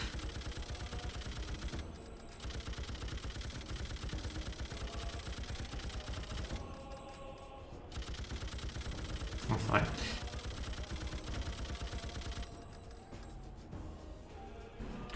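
Machine gun fire in the video game Freedom Fighters: dense, rapid bursts rattling almost continuously, with brief breaks in the stream of shots.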